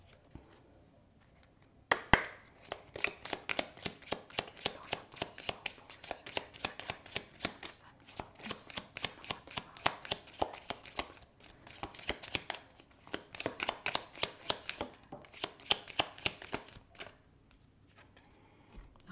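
Tarot cards being shuffled by hand for a reading, a steady run of soft, fast riffling flutters repeated in several bursts with short pauses, close and quiet, with no talking.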